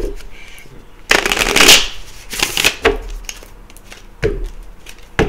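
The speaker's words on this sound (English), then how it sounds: "Y'all see me shuffle the hell out these cards." A deck of cards being shuffled up close, with loud riffling bursts and softer handling noises in between.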